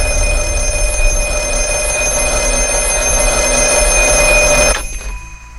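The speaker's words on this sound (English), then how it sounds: "it's whenever the black phone rings" A steady electronic ringing from the black phone in the 2022 horror film The Black Phone, sustained and fairly loud, continuing for several seconds before cutting off abruptly near the end.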